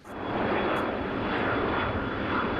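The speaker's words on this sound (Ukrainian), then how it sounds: "Американський літак привіз на українську землю понад сотню миротворців." An American aircraft engine roars steadily and loudly near at hand, a dense continuous drone that swells in at the start and holds without speech.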